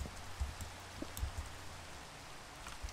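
Soft, steady rain falling in the Minecraft video game, a faint continuous hiss with scattered low patters and no talking.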